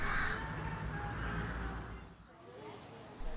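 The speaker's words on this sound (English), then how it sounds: "Crows and ravens are blackbirds." Crows caw a few times at a moderate distance against a noisy background, the calls rough and rasping.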